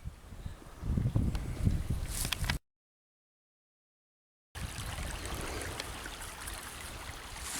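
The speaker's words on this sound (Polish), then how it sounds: "Kolejny przykład, jak ten strumień płynie, jego zakola i przebogata roślinność nad brzegiem potoku" Forest stream flowing among large alder trees, a steady soft burble and trickle of water heard close by, broken by a short stretch of silence partway through.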